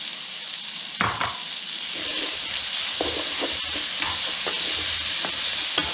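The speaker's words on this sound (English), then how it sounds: "now I'm going to add the sausage." Sausage sizzles loudly in a hot pan with red pepper flakes during a pasta cooking demo, a continuous close frying hiss broken by occasional sharp pops and clanks of the pan or utensil.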